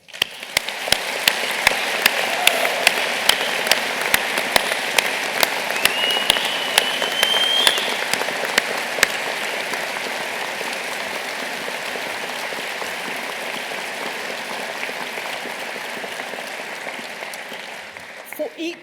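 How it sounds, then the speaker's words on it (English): A large graduation ceremony audience at the University of South Wales gives a warm round of applause, dense and sustained for nearly twenty seconds and slowly easing off toward the end. "they deserve a warm round of applause"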